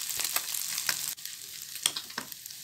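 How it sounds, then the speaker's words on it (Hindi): Small masala-coated fish frying crisp in a pan over a high gas flame, a fairly quiet steady sizzle with several sharp crackles and spatter bursts, no voices. "दोनों साइड से गोल्डन होने के बाद गैस के फ्लेम को हाई कर लेंगे ताकि ये क्रिस्पी फ्राई हो सके।"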